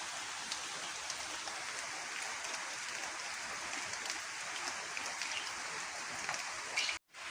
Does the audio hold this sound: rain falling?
yes